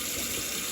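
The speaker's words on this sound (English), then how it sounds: "I'm finna pour it in the sink" Expired beef broth is poured into a kitchen sink, a short steady liquid splash and gush, close and fairly loud, with no voices.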